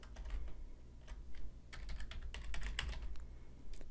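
Someone types a password on a computer keyboard: quick, irregular clusters of soft keystroke clicks, close and fairly quiet, over a low background hum, with no talking.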